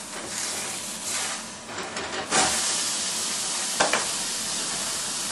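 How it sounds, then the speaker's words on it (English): A hamburger patty sizzles loudly in a smoky pan, a steady close hiss that runs throughout, with a few brief scrape-like bursts and no talking. "it's getting a little smoky in here, so I guess that means it's about time to flip the burger"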